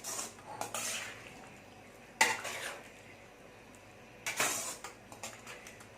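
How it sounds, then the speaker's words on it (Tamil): A spoon scrapes and clanks against a metal pot of mutton gravy in a few separate bursts of stirring, close by, with quiet gaps between. "நடு நடுவில் கிளறி விட்டுகிட்டே இருக்கணும்"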